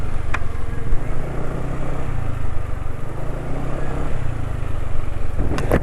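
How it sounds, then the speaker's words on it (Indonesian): A motorcycle engine running on Valvoline 5W40 PCMO oil sounds rough, with a steady, loud, close mechanical drone that holds for several seconds without anyone speaking. "Jadi ini suara mesin sudah cukup kasar ya."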